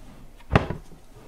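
A single short wooden thud with a quick follow-up clack as a drawer of stamps and dies in a craft studio slides open, faint against a quiet room.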